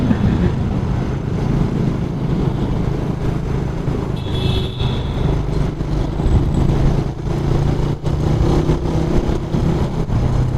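A Suzuki Raider 150cc carbureted motorcycle being ridden hums loudly and steadily throughout, its engine note holding close and constant with slight rises as it pulls along, no voices over it.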